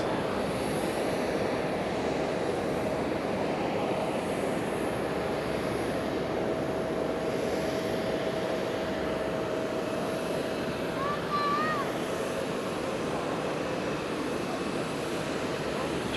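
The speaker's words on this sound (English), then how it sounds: "A350-900 being pushed back in front of us" A Japan Airlines Airbus A350-900 being pushed back at Fukuoka Airport, a steady, loud engine and airport drone with a faint high whine, continuous throughout.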